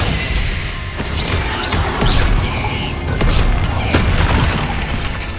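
Glacius spell casting in Hogwarts Legacy combat, amid a continuous clatter of crashes, booms and sharp whacks, with repeated loud impacts spread across several seconds and no speech over them.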